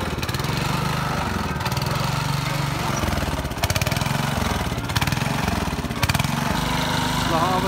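A tractor ploughs a rice field before paddy planting, its engine throbbing with a steady mid-pitched chug that swells and eases slightly as it works nearby.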